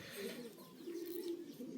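A pigeon coos softly and close by in a short, low, rolling call repeated twice, alone with no voices over it.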